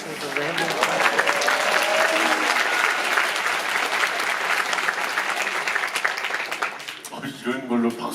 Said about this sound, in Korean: 이런 걸로 박수까지 받을 줄 몰랐습니다.